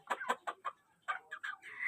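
Chickens crammed into a small pig pen after a flood cluck in a rapid series of short, bright calls, close by and fairly quiet, with brief pauses between bursts.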